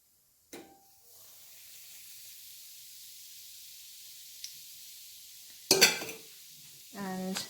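Chili powder hits hot oil in a pan taken off the heat while making Kerala mango pickle, giving a soft steady sizzle and hiss, with a few brief clinks and stirring scrapes near the end.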